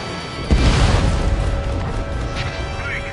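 A missile strikes an aircraft in the combat flight game Ace Combat 7, setting off a sudden loud boom that decays into a rumbling crash, with voices over the radio.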